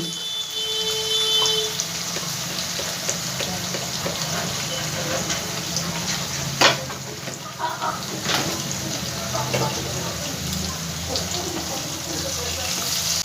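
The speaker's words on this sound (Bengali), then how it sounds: "পেঁয়াজটা আমার অর্ধেক ভাজা হয়ে গেছে" Salted chopped onions frying in a pan, a steady hiss of sizzling oil running throughout, with a few utensil clinks and a louder clatter midway, and faint voices in the background.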